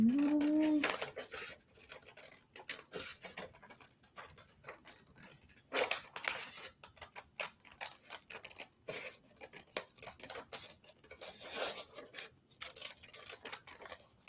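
Scissors cut out a traced paper shape for a Valentine craft box, making a series of close, crisp snips and slicing rasps in an uneven rhythm, with a brief voiced sound at the start.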